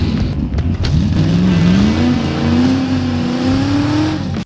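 A 1969 Chevelle SS 396 muscle car engine revs loud and close, its pitch climbing and holding high in a sustained roar before cutting off abruptly at the end.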